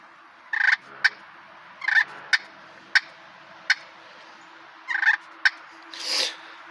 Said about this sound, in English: And then the cluck, it's real similar. You just take it and just one quick little pop and motion back to you.